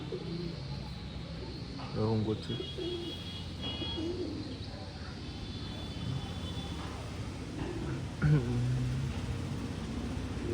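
Pigeons coo softly in low, repeated bursts, with a brief spoken phrase and occasional chirps nearby.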